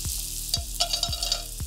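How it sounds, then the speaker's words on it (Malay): Kuih loyang batter frying in hot oil, a steady bubbling sizzle with sharp crackles and pops, close and fairly loud with no talk. "Dah banyak gelembung naik tu, maksudnya minyak dah cukup panas."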